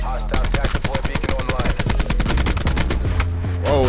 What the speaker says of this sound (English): Oh, that dude's shooting.